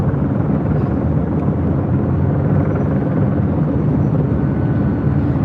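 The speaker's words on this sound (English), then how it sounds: "So we got the news choppers right above us here." News helicopters hover overhead at LAX, a steady broad rotor and engine roar that holds constant and loud throughout, with no voices.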